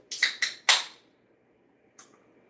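Beverage cans cracking open with three sharp hissing pops in quick succession, then a fainter fourth a moment later, close and isolated.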